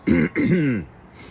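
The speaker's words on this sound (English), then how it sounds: "And I need to clear my throat" Someone clears their throat twice in quick succession, a close, raspy, voiced rumble, then quiet.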